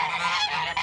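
Geese honk near the chicken and goose coops in a continuous, close, loud run of calls lasting under a second, with no talk over them.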